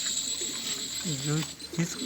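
Soft, low pigeon coos rise and fall a few times close by, with faint background hum and some indistinct voices around.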